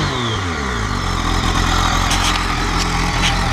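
Stock exhaust of a 2014 BMW K1300S 30th anniversary motorcycle running steadily close by, a loud continuous engine drone with slight rises in revs, no voices over it.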